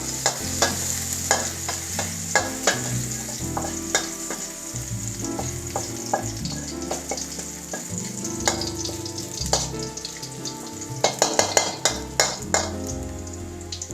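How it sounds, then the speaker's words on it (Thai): Garlic stir-frying in a pan for Thai shrimp fried rice, with a steady sizzle under repeated scraping and clanking of a spatula against the pan in an irregular rhythm, close up and with no talk. "เทียมผัดให้หอมครับ"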